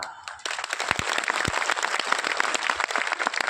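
An audience at the Latiya festival event of the Samrat Ashok Club bursts into clapping, starting quieter and then swelling into brisk, uneven applause with distinct individual claps standing out near the microphone.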